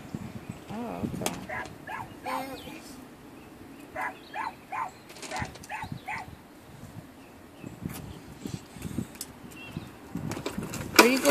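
Soft, intermittent whimpers and whines from a dog close by, broken into short bursts with small chewing noises in between.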